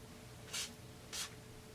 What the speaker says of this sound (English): Blow some WD-40 through it.